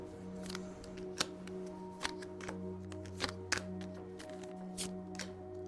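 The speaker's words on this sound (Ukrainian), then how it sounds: "Я ж мішаю карти," Playing cards are shuffled with soft, irregular clicks and snaps over a low steady hum, fairly quiet and close.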